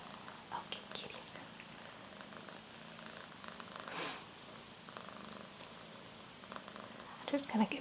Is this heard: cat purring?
yes